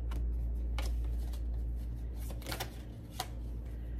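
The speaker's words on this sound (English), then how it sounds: "I'm trying to clarify these cards, y'all, but obviously, I'm gonna just keep shuffling." Tarot cards being shuffled, soft papery riffles and flicks in scattered short bursts over a low steady hum, faint and close.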